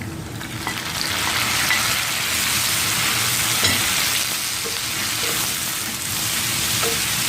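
Tomatoes hitting a pan of frying garlic and cashews over lowered heat give a steady, loud close sizzle with faint crackles and stirring scrapes throughout, no voices.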